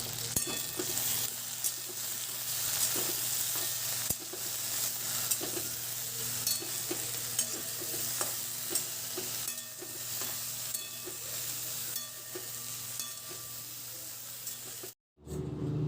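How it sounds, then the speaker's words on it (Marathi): Okra (bhindi) fries steadily in oil with a continuous close sizzle, punctuated by repeated scraping clicks of stirring, until the sound cuts out abruptly near the end. "आता ही भेंडी आपल्याला चांगली तेलात फ्राय करायची आहे।"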